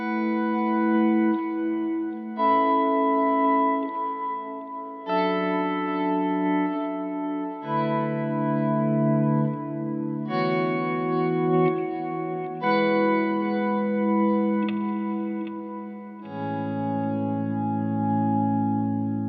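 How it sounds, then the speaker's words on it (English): Spread chord voicings on electric guitar, soaked in ambient effects, ring out as sustained chords one after another, each held and blending into the next, with no voice over them. "It's a little easier to use tensions in these kinds of voicings as it just makes for a more outer space sound."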